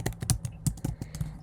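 Rapid typing on a computer keyboard at a desk, a steady run of close, light key clicks and taps with no one talking.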